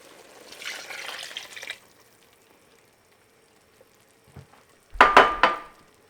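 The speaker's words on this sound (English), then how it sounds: "I'm going to add some beef stock. That's going to continue to deglaze the bottom of the pan." Beef stock is poured into a hot pan of short rib and vegetables, a brief liquid rush followed later by a loud, sharp sizzling burst with a metallic clank, otherwise quiet.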